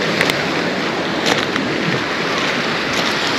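Black Sea surf on the shore at Lazarevskoye, Sochi, a steady, loud broadband wash of breaking water with no pauses and no voices.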